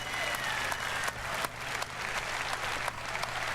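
Crowd at EA's E3 2016 show in London applauding with enthusiasm: dense, continuous clapping with a few sharper spikes, steady throughout and moderately distant, with no voices standing out.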